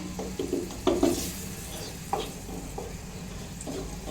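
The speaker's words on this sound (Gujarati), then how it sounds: "તમે આમ આવી રીતે આદુ મરચાંથી વઘાર કરશો" Ginger and chillies sizzle steadily as they temper in hot oil for vada pav while being stirred in the pan, with a few louder crackles and scraping bursts, close and moderately loud.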